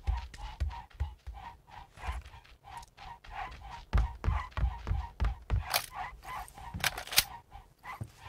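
Dog whining and yelping sounds in the video game PUBG on PS4, a repeated high squeaky yip recurring in quick bursts over a steady low rumble of game noise, with sharp thumps and clicks scattered throughout.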